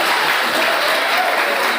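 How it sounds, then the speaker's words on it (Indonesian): Audience applause at an Islamic boarding school gathering, a dense, steady wash of clapping that fills the short moment at close range. "Dia kangen sama tepuk tangan antum hari ini."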